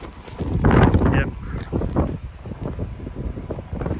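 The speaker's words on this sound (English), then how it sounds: "it's really windy, so I think I'm going to have to get in the car" Heavy wind buffets the microphone outdoors behind buildings in loud, low rumbling gusts. Indistinct sounds sit underneath, and the roar eases a little after the first second.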